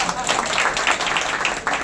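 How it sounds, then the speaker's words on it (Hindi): An audience at a Jain sermon claps together, a dense patter of hands that fills the whole moment at moderate distance, with no speech over it. "एक बार फिर से ताली बजा दीजिए"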